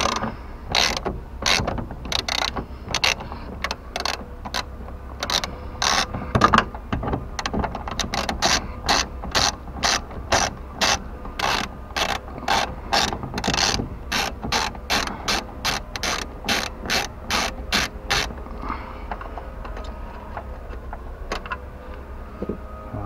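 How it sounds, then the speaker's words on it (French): A 10 mm ratchet wrench working on a Nissan Qashqai mirror, loud close rapid clicking in a steady repeated rhythm of short strokes for about twenty seconds, then fading to quiet. "Il vous faudra une clé de 10"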